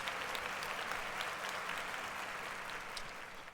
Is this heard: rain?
no